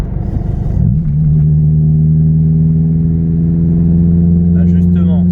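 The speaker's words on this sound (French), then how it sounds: "Là je suis à quoi 2500 tours. Ça bourdonne, ça drone à mort." Peugeot 206 S16 engine droning steadily at about 2500 rpm from inside the car, a loud constant low hum with a faint brief sound near the end.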